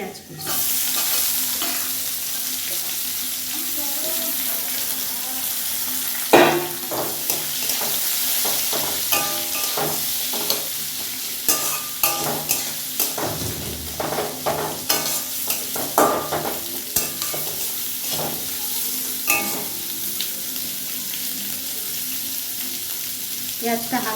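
Chopped onion added to oil with fried garlic and ginger sizzles steadily in a pan for a kulekhara greens dish, with frequent scraping stirs and clinks throughout, close and fairly loud.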